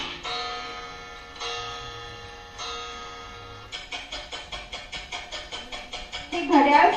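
A clock ticks in a steady rhythm during a Science Day mime dance performance, with sustained chime-like tones first, then regular ticks that get louder toward the end.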